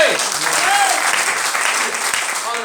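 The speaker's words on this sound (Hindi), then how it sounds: "जोरदार तालियां उन लोगों के लिए, जोरदार तालियां" Sustained applause from a seminar audience fills the room at steady loudness, with a voice or two calling out faintly over the clapping.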